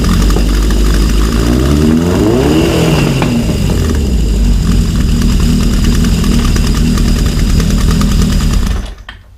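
A motorcycle engine idles steadily and loudly during carburetor tuning with a Gunson Colortune, the pilot circuits running rich, with a continuous close rumble that cuts off abruptly at the end.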